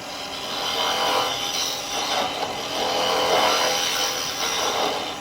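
Steady scraping hiss of a gouge taking a back cut on alder spinning on a lathe, shavings peeling off continuously, close and fairly loud with gentle swells in intensity.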